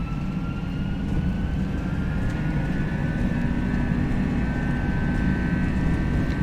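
A321 jet engines spooling up to takeoff power in a flight simulator game, a steady loud roar with a rising whine across the whole stretch, no voices.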